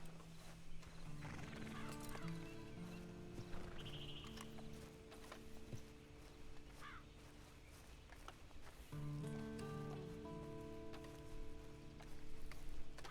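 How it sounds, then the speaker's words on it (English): Horse hooves clip-clop at a steady walking pace in the video game Red Dead Online, with a horse neighing and whinnying, all set against in-game music and ambience. "And you better get on this horse."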